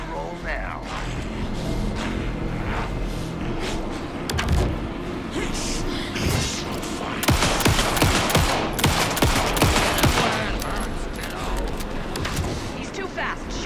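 Rapid automatic gunfire and repeated shots in the video game Alan Wake 2, loud and dense bursts layered with combat effects and voices talking over the action.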